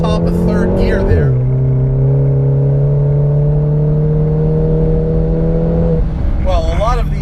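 Tuned 400 hp Stage 3 VW Mk7 GTI accelerating hard on a track, its engine note climbing steadily through third gear, loud and close, with a voice talking over the start and end.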